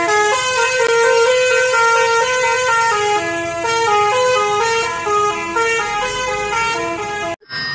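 A toy bus horn honks in a loud, steady run of bright tooting notes that step up and down in pitch, ending with a brief clunk.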